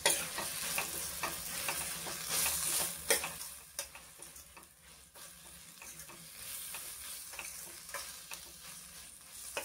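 Jaggery stirred into frying green chillies in a pan: continuous close sizzle and frying crackle with repeated light spatula scrapes and ticks, louder at first then settling, no talking.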